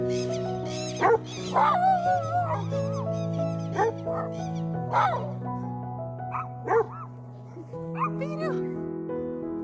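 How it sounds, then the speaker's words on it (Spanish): A dog barks in short yips and bow-wows indoors, several sharp bursts spread across the clip, fairly close, with a whimpering tone between barks and a voice talking over much of it. "Pero ese ladrido es nuevo"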